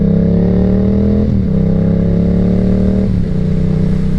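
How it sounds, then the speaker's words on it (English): Yamaha R7 supersport motorcycle exhaust heard while riding, a loud, steady deep drone holding one pitch, with two brief dips where the engine note shifts before settling again; no talking. "this exhaust sounds so good. Wow, it sounds like a cruiser"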